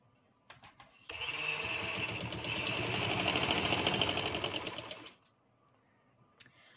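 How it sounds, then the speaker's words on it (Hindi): A sewing machine runs in one continuous burst of about four seconds, stitching fabric for a bell-bottom trouser. The motor whirs loud and close, starting abruptly and winding down at the end, with a few light clicks before and after. "इस तरह से इसको सिलाई लगा लूँगी"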